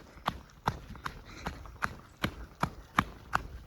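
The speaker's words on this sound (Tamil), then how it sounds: "குதிரை போயிட்டு இருக்கு. 4 குதிரை." Four horses walking along a road in the Sirumalai hills near Dindigul, hooves clip-clopping in a steady, evenly spaced rhythm of about nine sharp clops, fairly close and clear with no talking over them.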